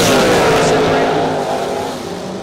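Door cars drag racing at the track roar past loudly in a sustained engine blast that slowly fades, with a track announcer's voice running over the noise.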